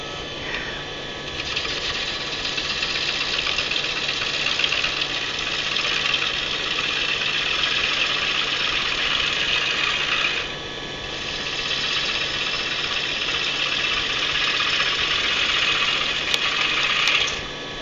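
A Twister Fu-180 machine running at 530 rpm gives a steady, loud mechanical whir with a constant hum, continuous for the whole span and briefly dipping once midway.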